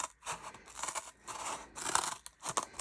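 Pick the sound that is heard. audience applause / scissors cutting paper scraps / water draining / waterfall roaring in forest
scissors cutting paper scraps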